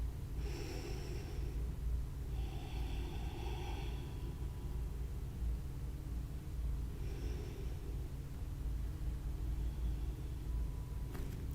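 Slow, deep breaths drawn in and pushed out during a held pose in an hour-long strength yoga class, a few soft breathy bursts spread over a steady low room hum.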